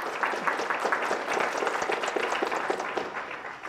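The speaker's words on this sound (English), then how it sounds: "I think he deserves another round of applause for that" An audience at a school board meeting applauds a student honored with a youth award. Many hands clap steadily in a lively round that continues throughout.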